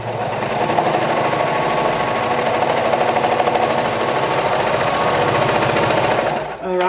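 A sewing machine stitches a quarter-inch seam on a Sinclair Lotte garment, running as a loud, steady, rapid mechanical whir before stopping abruptly at the end.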